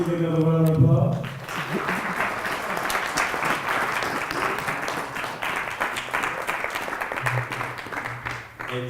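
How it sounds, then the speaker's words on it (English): An audience at a poetry reading breaks into a sustained round of applause, dense and steady, with a brief sung or musical tone at the start and a hum returning near the end. "Give another round of applause"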